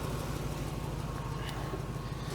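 Exhaust leak blowing from a Lexus GS430 engine, a steady, close rumbling idle with a continuous breathy hiss, unbroken and alone with no talk.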